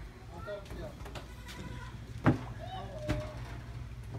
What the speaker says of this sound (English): My little goats are over there.